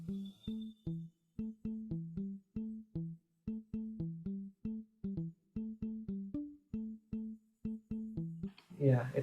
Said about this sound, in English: For the bass I have used muted electric bass and it sounds like this.